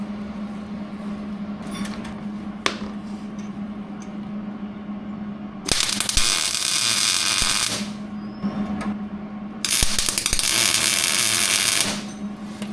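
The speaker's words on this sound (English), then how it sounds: "I think we're ready for the welder." A welder tack-welds a steel steering brace on a Jeep XJ unibody in two loud, crackling, buzzing bursts of about two seconds each, close up over a low steady hum with occasional clicks.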